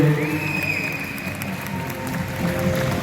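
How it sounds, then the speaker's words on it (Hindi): An audience at a dolphin show in Lahore applauds a painting, a steady wash of clapping and crowd noise mixed with a sustained tone, holding level for about three seconds. "कुछ लोग कहते हैं तालियां बजाएंगे पेंटिंग के लिए"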